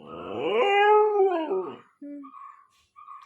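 A restless dog howls loudly at close range in one long, rising and falling wail, then lets out a few short, whining whimpers, with no other sound around it.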